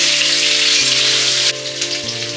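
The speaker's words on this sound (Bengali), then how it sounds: "তেলটা একটু ভেজে নিই, তারপরে সব মশলাগুলো দিব।" Oil and potatoes frying in a pan, a loud, close, continuous sizzle that crackles evenly with a slight shift partway through, with no talking.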